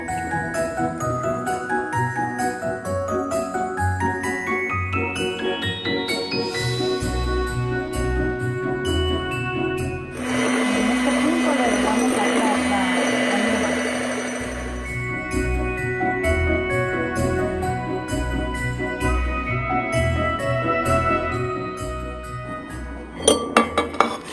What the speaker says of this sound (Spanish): Nosotros nos vamos a concentrar ahora en la batida del huevo